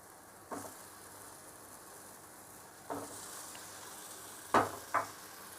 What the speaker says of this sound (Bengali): এখন আমি আলুর সঙ্গেও মশলাটাকে ভালো করে অল্প সময় ভেজে নেব